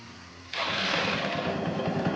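A modified Honda CBF Stunner motorcycle with adjusted engine tuning starts up after a quiet moment, then settles into a loud, steady running engine note nearby, with no talk.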